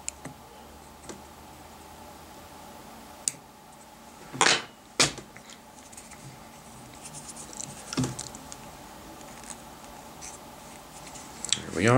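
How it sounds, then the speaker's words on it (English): Small scissors snip away excess material while a micro mouse fly is tied at the vise, a few quick, sharp cuts close by against a quiet background. "Trim off the excess."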